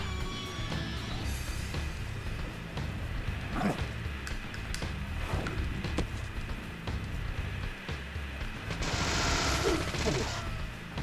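Gunshots in Deadly Premonition ring out as scattered sharp cracks over a busy game soundscape, with a brighter burst of noise toward the end, moderately loud.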